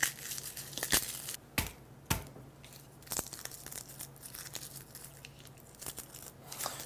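Garlic cloves peeled by hand at close range, papery skins crackling and tearing in quiet scattered bursts, with a few sharper snaps as cloves split free.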